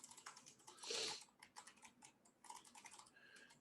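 Quiet, close keystrokes on a computer keyboard come in short irregular runs, with one louder hissing burst near the start and no speech.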